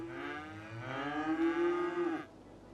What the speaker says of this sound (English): we have cows and pigs running around on the map